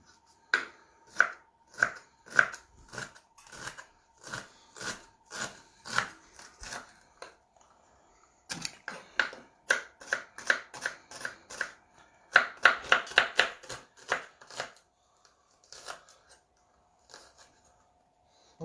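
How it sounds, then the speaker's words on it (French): A knife finely chops a shallot on a cutting board, making quick sharp taps in steady bursts with short pauses between runs, close and fairly quiet. "Ensuite, on va ciseler l'échalote."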